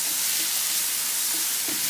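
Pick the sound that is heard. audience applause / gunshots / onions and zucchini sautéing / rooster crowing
onions and zucchini sautéing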